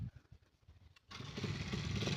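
A motorcycle engine is started: faint sputtering first, then a sharp catch into a loud, rough, sustained idle rumble close by, with no talk.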